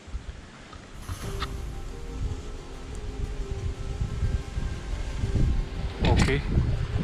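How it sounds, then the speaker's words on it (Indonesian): Strong wind gusts roar across an open microphone at the sacred Cikahuripan spring. The gusting is a steady rumbling rush that swells louder near the end, with a brief scrape partway through. "Oke, datang lagi anginnya."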